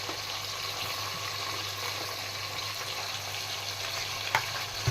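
Onions frying in a pan for a village-style chicken biryani, a steady close sizzle with occasional stirring clatter, no talking.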